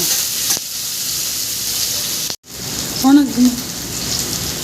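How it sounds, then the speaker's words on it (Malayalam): Beef curry masala sautéing in a pan, giving a loud, close, steady sizzle with stirring, a brief dropout midway and a short voice sound near the end. "നല്ലപോലെ വഴറ്റിയെടുക്കണം കേട്ടോ."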